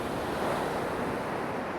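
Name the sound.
sea breakers crashing on the shore at night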